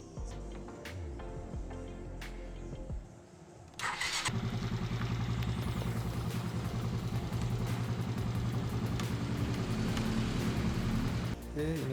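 A 2005 Suzuki Shogun 125 cc motorcycle engine starts up after a few seconds of quiet handling noises, then runs at a steady, close, loud idle with a constant low throb.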